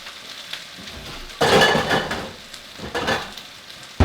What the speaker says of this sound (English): I'm going to finish browning my, what do you call them? Potatoes.